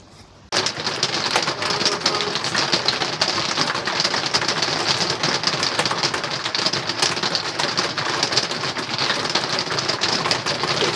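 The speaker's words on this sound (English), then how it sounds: "It's raining." Steady rain patters on a motorhome parked in the Catalonian Pyrenees, a dense, even hiss of drops that starts abruptly and holds at a constant level throughout, with no voices.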